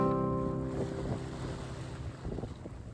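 Sailboat under way on the open sea after weighing anchor, with steady wind rushing over the microphone, water washing along the hull and a low engine-like hum, continuous and fairly loud.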